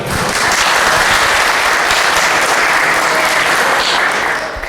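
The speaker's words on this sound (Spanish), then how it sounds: "un aplauso por favor para Juan Medina." Loud, sustained applause from an audience, a dense wash of clapping that holds steady before tapering slightly at the end.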